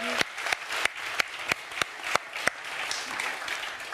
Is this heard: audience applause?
yes